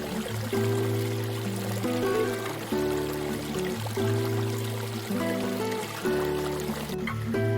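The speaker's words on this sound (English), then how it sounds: "we hopped across a gently cascading creek" A gently cascading creek deep in temperate forest, a steady close rush of flowing water, with a repeating low tonal hum under it throughout.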